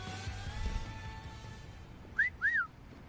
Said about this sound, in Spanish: me silbó un gran tipo